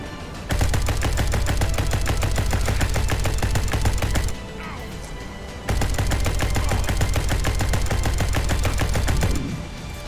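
Rapid automatic gunfire shooting at gas canisters in the video game SpaceBourne 2, two long unbroken bursts of fast rattling shots separated by a short lull, loud and close with no talking.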